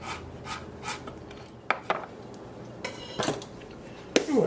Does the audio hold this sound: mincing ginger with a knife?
yes